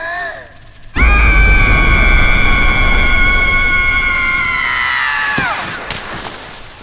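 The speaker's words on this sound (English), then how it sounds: "Tutu is going to use her supersonic scream." A cartoon character lets out a supersonic scream, a sudden piercing, sustained high-pitched shriek that holds loud for several seconds with a booming rumble beneath, then bends down in pitch and cuts off.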